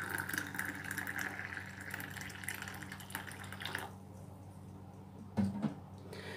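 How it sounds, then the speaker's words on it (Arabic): Hot water poured over herbs such as wormwood, a quiet steady trickling stream that stops partway through, followed by a brief clink of a vessel. "نصب عليها الماء الساخن"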